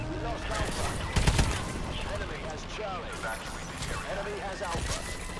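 Rapid bursts of energy turret fire in Call of Duty: Advanced Warfare, a loud volley near the one-second mark amid steady game noise and sporadic weapon sounds, with players talking over it.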